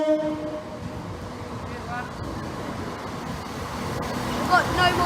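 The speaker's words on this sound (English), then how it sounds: "See if we can see Gaylord on the train" Train rolling past with a steady rumble of wagons, a horn tone briefly at the start and a rising squeal near the end, while people talk over it.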